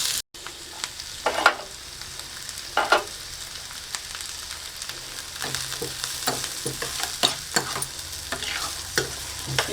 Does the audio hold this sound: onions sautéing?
yes